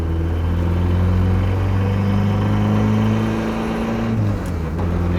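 A loud, close turbocharged K24 engine drones steadily from inside a Mazda Miata with a twin-disc clutch pulling away from a stop, holding a low tone before easing off near the end.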